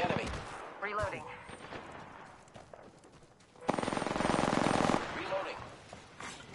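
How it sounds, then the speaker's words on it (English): Gunfire rattles in the Apex Legends video game: scattered shots, then a loud, rapid automatic burst lasting about a second, with game voices and effects around it. "Opening fire on the enemy."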